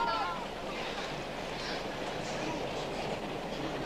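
A train runs with a steady, dense rumbling roar that stays even and unbroken throughout, heard up close at moderate loudness.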